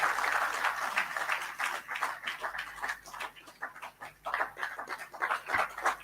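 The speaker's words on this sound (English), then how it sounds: "put your hands together and clap" A crowd at a football federation presidential debate in Gambia claps and applauds in uneven bursts, fairly quiet and somewhat distant, with brief lulls between waves.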